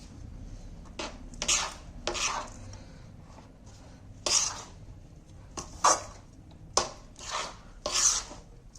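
A spoon scraping through a thick methi laddu mixture with jaggery in a pan, repeated rough rubbing strokes at an uneven rhythm, each a short gritty scrape separated by quiet gaps.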